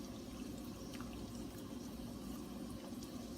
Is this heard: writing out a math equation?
no